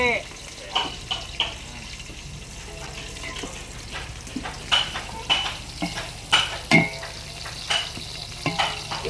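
Onions and green chillies fry in a pan for a Rayalaseema-style chicken biryani, a steady sizzle under repeated scraping stirs and clacks of a spoon, close and moderately loud, with some faint voices in the background.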